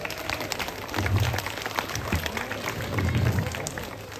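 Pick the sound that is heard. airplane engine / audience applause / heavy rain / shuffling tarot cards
audience applause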